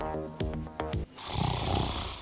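A man snores during an overnight sleep study, his breaths forming rough, rhythmic, fairly loud rasping pulses followed by a longer noisy exhalation.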